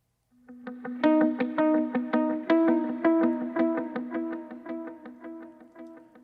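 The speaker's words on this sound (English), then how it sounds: "And here's the track with delay." An electric guitar with a delay effect picks a steady rhythmic pattern, each note echoing and smearing into the next, giving a wide, repeating trail of sound.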